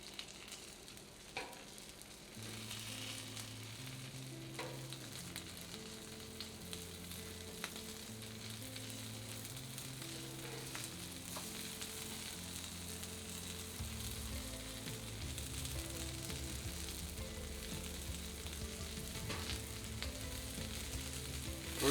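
Blackened shrimp and seafood sausages fry in a hot pan, a steady close sizzle that runs unbroken for the whole stretch with a faint low hum underneath and no talking.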